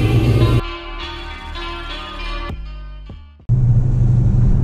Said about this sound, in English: Idles down, you'll get more of the chop sound